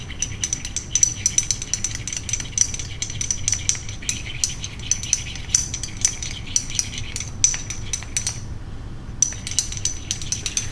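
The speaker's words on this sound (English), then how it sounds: "I'm going to stir it up" A spoon stirs a toothpaste mixture, with rapid metallic clinks and scrapes against a container repeating in an uneven rhythm, close and fairly loud, pausing briefly near the end.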